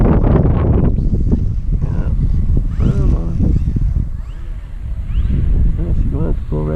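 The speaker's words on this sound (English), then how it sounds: "that wind is blowing like nuts" Strong gusty wind buffets the microphone in extremely windy conditions at a small model-plane runway, a loud roaring rumble that swells and dips throughout while someone talks over it.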